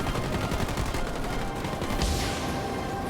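Rapid sniper gunfire from a Halo Wars 2 real-time strategy match, a dense, continuous volley of overlapping shots at steady loudness with a brighter sweep of battle noise near the end.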